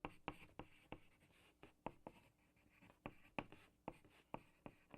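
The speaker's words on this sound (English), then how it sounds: "Pencil or pen" A pencil or pen pushes and scratches on paper over a table, giving a series of soft, sharp taps and scrapes at an uneven rhythm, close and quiet with no voices.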